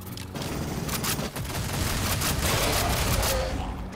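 Rapid, continuous weapon fire from the video game Aliens: Fireteam, dense and loud throughout the four seconds, with a brief dip before the shooting resumes.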